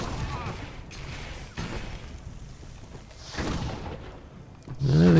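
Gunshots from a blaster fight in SWTOR, on Ord Mantell, crack in a few scattered bursts beneath voices and background noise, with a louder shot near the end.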